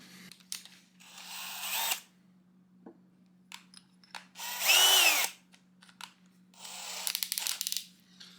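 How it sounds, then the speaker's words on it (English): A drill whines in three short bursts separated by pauses, the middle one loudest and rising in pitch, with small clicks between runs. "we got our first hole drilled in there"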